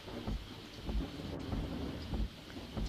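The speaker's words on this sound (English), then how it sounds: "The sound of thunder reached us" Thunder rumbles low beneath steady heavy rain in the Seabed video game, with soft rolling booms pulsing through the continuous downpour.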